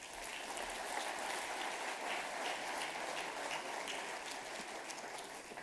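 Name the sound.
applause for panelists coming on stage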